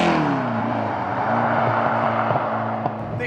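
TVR Cerbera engine with a sports exhaust, a loud, rough, steady drone at cruising revs with slight rises in pitch, heard from inside or close to the car, with no talking.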